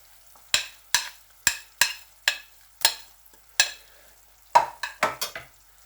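A spatula scrapes and stirs ground garlic into softened onions in a pan for white chicken ginger karahi, about a dozen sharp, rhythmic strokes close up over faint sizzling, with no voices.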